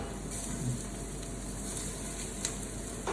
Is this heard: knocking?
no